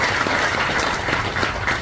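Steady audience applause at a groundbreaking ceremony for a crematorium facility in Geochang County, dense, even clapping that continues without a break.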